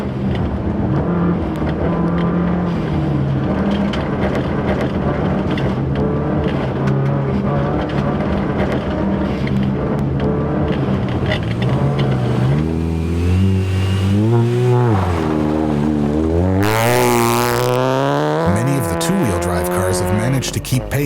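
A Canadian Rally Championship car at Tall Pines Rally 2019 blasts along a stage, its engine revving hard and loud with rising and falling pitch through gear changes, a close pass building to a sharp climax near the end.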